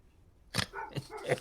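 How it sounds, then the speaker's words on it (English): A few sharp dog barks close by, three short bursts spaced about half a second apart over a quiet background. "All I hear are dogs barking."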